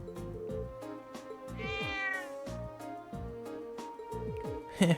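Cat meowing in The Legend of Heroes: Trails of Cold Steel, a single drawn-out rising-and-falling meow set against a rhythmic, stepping game music track.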